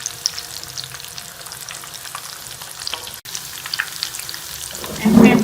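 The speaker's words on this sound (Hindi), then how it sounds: "हमारे ज़बरदस्त से बॉल जो हैं वो फ्राई हो रहे हैं।" Crispy potato balls fry steadily in hot oil, a continuous soft sizzle and crackle that swells louder near the end.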